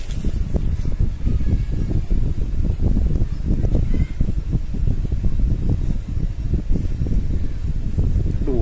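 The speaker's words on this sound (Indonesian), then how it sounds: "ada angin nih" Wind blows steadily outdoors during sticker application on a vehicle, a constant broadband rush with gusty low rumbling throughout, fairly loud and without talk.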